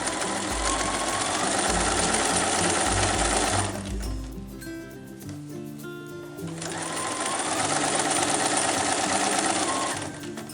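A sewing machine stitching a fabric face mask, running with a fast steady mechanical whir, pausing briefly midway, then resuming at full speed close by.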